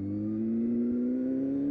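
Honda Hornet 600 motorcycle engine revving up for a wheelie, a steady rising mid-pitched drone held loud and close for under two seconds, with no talk.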